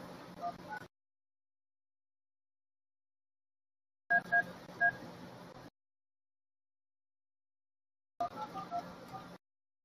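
Three short bursts of telephone keypad dialing tones punch out an 11-digit phone number on a SIP desk phone, separated by stretches of silence, with clustered beeps in each burst and no talking.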